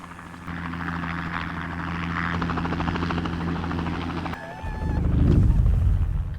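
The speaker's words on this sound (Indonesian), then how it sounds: "melihat helikopter yang sedang mengarah ke rumahnya" A helicopter's rotor thump and engine drone growing, then a brief squawk-like chirp before a louder, heavier low rumble as it draws close.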